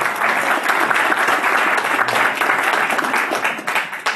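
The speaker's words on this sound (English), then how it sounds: "Can we give her a round of applause?" An audience applauds a mother who stands up at a productivity event, a dense, steady wash of many hands clapping close by for about four seconds before tapering slightly at the end.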